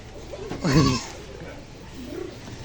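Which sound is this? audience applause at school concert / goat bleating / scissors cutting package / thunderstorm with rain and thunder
goat bleating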